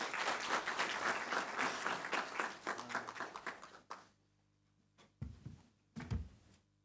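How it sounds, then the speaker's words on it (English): Warm applause from a symposium audience welcoming a keynote speaker, dense and steady for about four seconds before breaking off, followed by a few isolated bumps and handling noises in a quiet room. "With those warm, welcoming claps, can we please welcome our keynote speaker"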